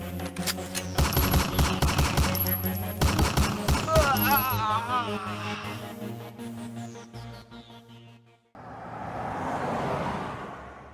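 Rapid bursts of automatic gunfire crackle over shouting voices, then the firing stops and a loud rushing hiss rises near the end.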